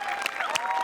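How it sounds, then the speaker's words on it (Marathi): Brief burst of studio audience applause during a Marathi comedy show taping, with dense clapping and a couple of sharper claps standing out, lasting under a second. "या दोघांसाठी एकदा जोरदार टाळ्या होऊन जाऊ"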